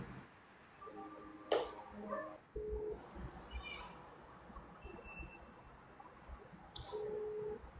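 A phone call's ringing tone plays faintly through a phone speaker, two short buzzes several seconds apart, in a quiet room with light background noise.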